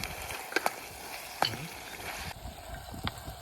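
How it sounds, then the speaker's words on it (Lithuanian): Minced meat sizzling and frying in a pan outdoors, with paprika soon added, a steady crackling hiss broken by a few sharp clinks and scrapes of stirring. "Oi, čia kaip kepa."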